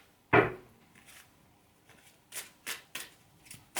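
Metatron oracle cards being shuffled: a sharp initial riffle followed by a series of soft, quick card flicks and slides, close and quiet, with no talking.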